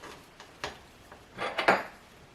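Boiled potatoes are strained at the stove and returned to the pot, heard as a few close clanks and knocks of cookware, with a small cluster of clattering near the end.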